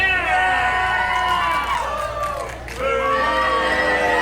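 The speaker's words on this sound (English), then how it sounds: "they are cheering Ron Mathis and booing Chugg here" A wrestling crowd cheers and boos loudly with shouts and whoops, the noise dipping briefly in the middle before swelling back to full volume.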